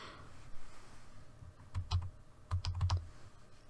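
Fingers typing a website address in capital letters on a computer keyboard, with short bursts of quiet, close key clicks and pauses between them.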